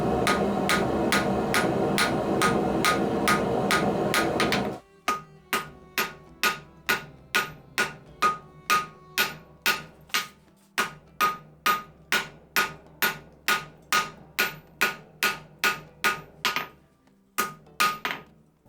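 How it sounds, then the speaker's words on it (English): A hammer forges a knife handguard from wrought iron taken from an old wagon wheel, over 150 years old. Sharp ringing blows land in a steady rhythm, first under a loud forge roar, then about two per second alone. "That means I can start to forge the handguard. I use wrought iron from an old wagon wheel"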